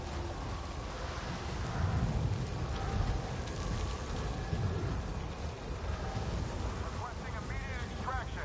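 A stormy downpour in Star Wars Jedi: Survivor, with heavy rain hissing steadily and deep thunder rolling underneath, loud and constant throughout, plus faint chirping tones near the end.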